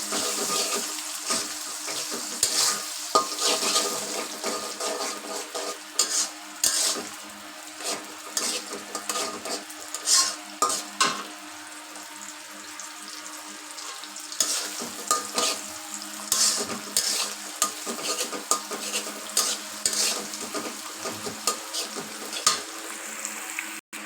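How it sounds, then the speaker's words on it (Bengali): Two eggs frying in a pan and being stirred while cooking for a dish with snake gourd, a continuous sizzle with scraping stir strokes throughout, close and moderately loud, no talking. "দুটো ডিম দিয়ে দিয়েছি এখন একটু নেড়ে ছেড়ে ভেজে নেব"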